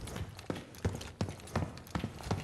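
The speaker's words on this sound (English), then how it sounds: "This is what footsteps are going to be like." The player's own footsteps in Modern Warfare 3, a series of about seven heavy, evenly spaced thudding steps in a steady walking rhythm, close and fairly loud, with no talking over them.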